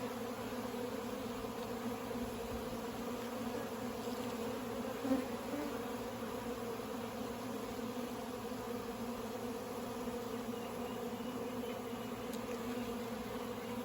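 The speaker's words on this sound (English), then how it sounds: "Shake some of those bees off of there" A crowd of honey bees buzzes steadily around a frame lifted from a nuc hive, the drone continuous and close, with no voices over it.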